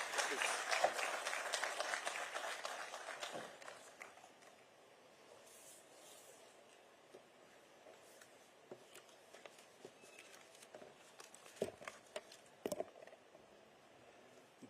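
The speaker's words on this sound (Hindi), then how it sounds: "एक बार जोरदार तालियां प्लीज।" An audience applauds the Governor, invited as chief guest at a formal schools-partnership ceremony, with a dense, fairly faint burst of clapping for about three seconds that thins out into scattered, quieter claps and murmurs.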